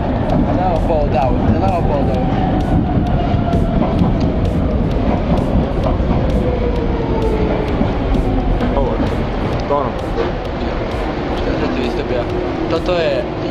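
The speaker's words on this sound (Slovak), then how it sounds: "Prichádza vlak od Žaštína." A train pulls in at a station near a Danube bridge in Vienna, a loud continuous rumble with squealing, sliding wheel and brake tones across the whole span, set against busy ambient noise.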